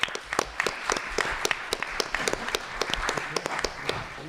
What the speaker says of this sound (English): So I think they deserve a little round of applause too.